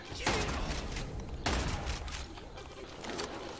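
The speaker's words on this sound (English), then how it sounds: "I'll try the shotgun." A shotgun in the video game Immortal Redneck fires three sharp blasts spaced about a second apart, each standing out over a quieter, noisy game background.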